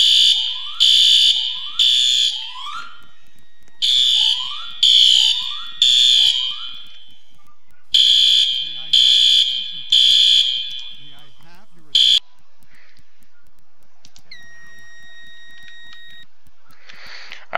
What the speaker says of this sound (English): we're going to test one of the smoke detectors using the solo detector tester